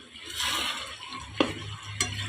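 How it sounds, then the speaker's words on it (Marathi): Onions fried in plenty of oil until deep brown, a steady close sizzle with stirring scrapes and two sharp spoon taps against the pan. "कांदा पूर्ण चॉकलेटी होईपर्यंत शिजवून घेतला आहे तेलात"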